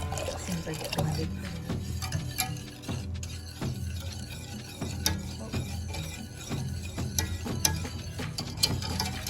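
A Rival electric ice cream maker churns chocolate ice cream with a steady mechanical grinding and ratcheting clatter, ticking rhythmically throughout while people talk over it.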